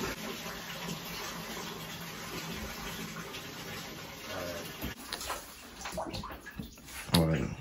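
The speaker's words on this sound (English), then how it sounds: "Now I gotta go fill up the bath" Water gushes steadily into a bathtub being filled for an ice bath, a continuous splashing rush with some muffled handling noises and a louder burst near the end.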